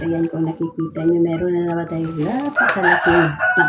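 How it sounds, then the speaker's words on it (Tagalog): Chickens and roosters at a home in the Philippines, with harmonic crowing and clucking running through the whole stretch and loud, close calls rising near the end, while someone talks over them throughout. "pasensya na kayo sa ingay ng mga manok"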